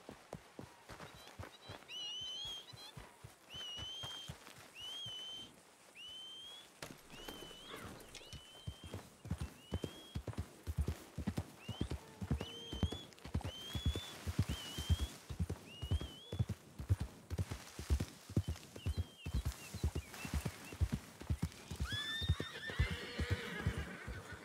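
A horse in a ranch role-play video game whinnies repeatedly and its hooves clip-clop in a steady trotting rhythm, growing busier and louder in the second half, with no talking.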